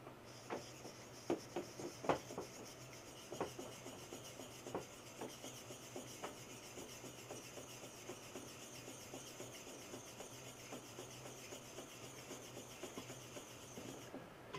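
A straight razor is honed in counterclockwise circles on a Shapton Glass 1K stone, making a soft, steady rasping scrape with repeated faint strokes, quiet and close, with no talking.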